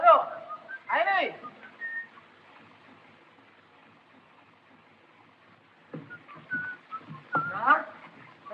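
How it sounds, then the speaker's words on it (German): Short whistled notes rise and fall in a few quick phrases, broken by a long quiet gap, with some brief voice sounds mixed in. "hör doch mal, da pfeift doch einer"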